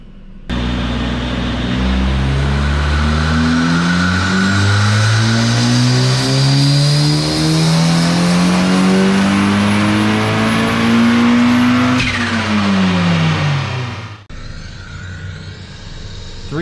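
A turbocharged Mazda Miata engine screams up through the revs on a dyno in one long, loud, steady pull. It cuts out sharply at the RPM limiter near the end, then drops to a lower idle.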